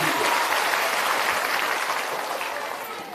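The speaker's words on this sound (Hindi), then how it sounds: "एक बार जोरदार ताली बजाइए" A large outdoor village crowd at a political gathering claps loudly and steadily for about three seconds, a dense continuous patter that tapers slightly toward the end.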